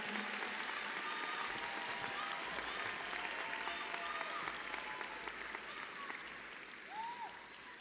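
A crowd at a high school commencement for Centennial High School's Class of 2026 applauds graduates joining their class, a broad, dense wash of clapping with scattered whoops that gradually thins toward the end.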